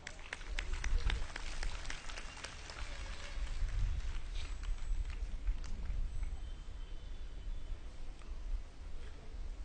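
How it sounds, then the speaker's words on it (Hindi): Hall audience applauding to welcome a speaker at a spiritual gathering in Meerut, a steady wash of clapping that swells and holds for several seconds at moderate distance, with crowd murmur underneath. "इसका जोर से आप स्वागत करें तालियों से।"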